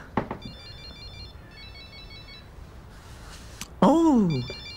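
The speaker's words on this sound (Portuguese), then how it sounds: "A Sila está ligando. Atende" A telephone rings in a domestic drama scene: short repeated electronic ring bursts in a steady pattern at moderate volume, with a voice breaking in briefly partway through.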